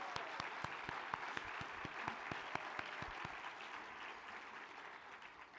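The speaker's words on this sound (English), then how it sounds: "we can give Billie a round of applause" An audience applauds an award recipient at the Terrance Keenan and Andy Hyman Awards presentation: crisp, distinct hand claps ring out close at first, then blend into a softer, thinning patter that fades toward the end.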